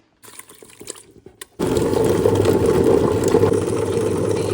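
An electric kitchen mixer grinder starts up abruptly after a few faint clinks, then whirs loudly and steadily while grinding chili powder, salt and tomato pieces for a simple pickle, with no talk over it.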